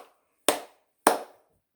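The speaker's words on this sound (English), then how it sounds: "Can you clap your hands for Nanny Deb?" A child claps two separate hand claps about half a second apart, sharp and close, each one followed by a short ring-out in an otherwise quiet room.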